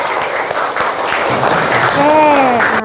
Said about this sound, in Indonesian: Tepuk tangan untuk Amira.